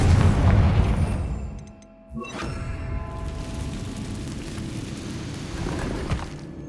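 A Confringo fire spell in Hogwarts Legacy goes off as a loud booming explosion, followed by a brief pop and a crackling, rumbling tail that fades over several seconds, with no speech.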